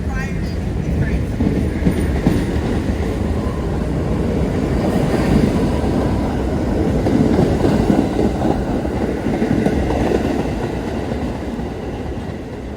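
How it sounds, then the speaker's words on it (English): A Staten Island Railway train rolls along the tracks, a loud, steady low rumble with continuous wheel and car noise throughout, slightly swelling midway while riding on board. "this is my last time ever riding these trains"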